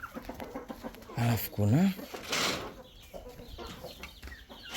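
A free-range village hen clucks in short bursts close by, among other chickens, while a person speaks quietly.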